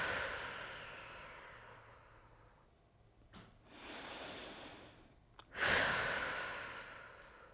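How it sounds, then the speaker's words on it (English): Deep, slow breathing during a restorative spinal-twist stretch: a long, soft inhale followed by a heavier, audible exhale, close to the microphone in a quiet room. "now we just breathe"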